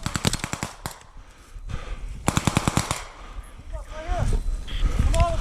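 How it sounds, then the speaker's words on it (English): SAW machine gun fire rattles out in rapid, loud bursts during a military field training exercise, with several sustained strings of shots close by and shouted voices between them. "Saw gunners up! Give me a base of fire!"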